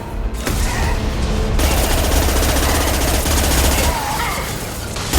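Rapid sustained gunfire from the video game Mass Effect 2, loud dense bursts of automatic fire rattling continuously with brief pauses and low booms underneath.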